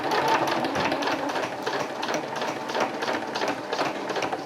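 A sewing machine stitches a seam along the edge of a hammock tarp, a steady rapid mechanical whir with even pulsing, close and alone without talking.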